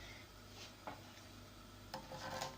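A spoon slowly stirs cornstarch pudding mixture in a pot, with soft scraping strokes against the pan and a couple of brief clinks over a low background hum.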